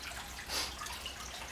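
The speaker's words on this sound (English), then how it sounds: "I can hear the water going down through the gravel into the bucket" Water trickles steadily down through gravel into a bucket beneath a decorative fountain pot, a faint, continuous wash with a slightly stronger splash midway.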